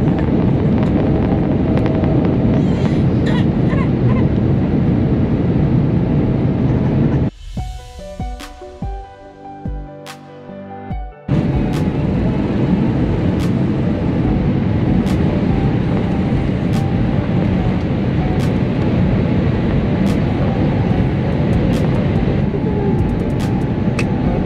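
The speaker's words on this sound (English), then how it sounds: "We then taxi to the runway for an on-time departure." A steady broadband roar heard from inside the cabin of a Royal Air Maroc Boeing 787 as it taxis to the runway, broken by a brief quieter gap with faint tones before the rumble resumes.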